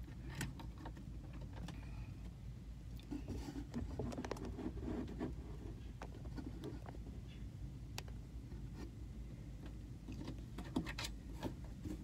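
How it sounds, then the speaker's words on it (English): Steady patter of rain falling on a hard surface, continuous and even throughout, with scattered sharper drips and taps close by. "It's raining all the time."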